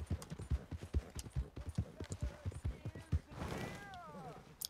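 Horse hooves clip-clopping at a brisk trot in Red Dead Redemption 2, regular thudding steps close by, then a brief stretch of rushing sound with a whinny-like tone before the hoofbeats resume.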